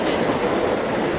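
The Narasapur Express rumbles steadily as it pulls into Begumpet station, a loud close rolling of wheels and carriages with faint rhythmic clatter and no speech.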